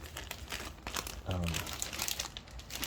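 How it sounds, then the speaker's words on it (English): A BCW resealable plastic bag crinkles and rustles steadily as a graded comic slab is worked into it, with a brief low voice murmuring in the middle. "pretty sure this is BCW's resealable bag"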